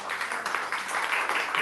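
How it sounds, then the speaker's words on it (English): Audience applause at a live poetry open mic evening, a steady wash of many hands clapping continuously at moderate loudness throughout. "Please put your hands together for Vinnie."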